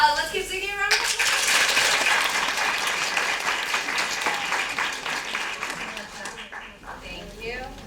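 An audience at a young playwrights' festival reading breaks into full, dense applause for several seconds after a short spoken line, then the clapping fades as a voice resumes.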